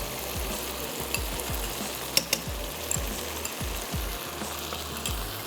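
Yogurt is spooned into sizzling curry leaf chicken, and a steady frying hiss runs under repeated soft spoon thuds and a couple of sharper clinks against the pan, with no talking.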